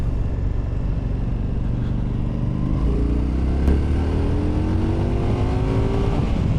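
A 2025 Indian Scout Bobber motorcycle accelerates in sport mode, its engine note climbing steadily through the gears under constant loud wind rush from the rider's position.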